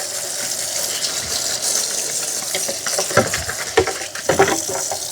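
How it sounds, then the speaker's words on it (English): A Narwal Freo Pro robot mop base washes its mop pad with a steady watery swish and gurgle, broken by several short splashy bursts and clunks toward the end, close and moderately loud. "It does such a good job of cleaning the mop pad."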